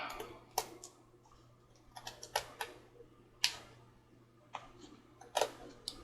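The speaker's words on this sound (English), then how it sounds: "I'm hoping that my regular scissors will work okay for that." Ordinary scissors trim the edge of paper in a quiet, close series of sharp, irregular snips and clicks over a faint steady background hum.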